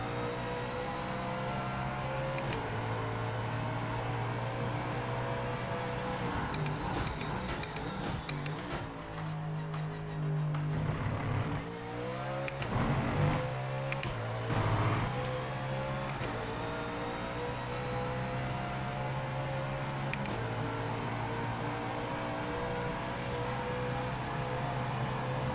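Mustang GT4 race car lapping Sebring in the Project Motor Racing sim, its engine droning steadily with rising and falling revs through shifts and corners, continuous and fairly loud with no talk.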